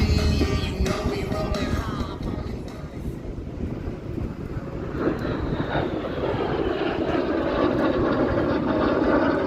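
A historic American aircraft flies at the Central Coast Airfest 2023, its engine a broad, rumbling drone that fades and swells with passing, heard outdoors with wind buffeting the microphone.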